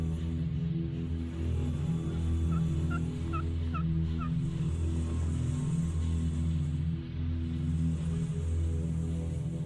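Wild turkey toms in Missouri gobble during a spring hunt, several short bursts of calls standing out against a steady, loud outdoor background with no talking.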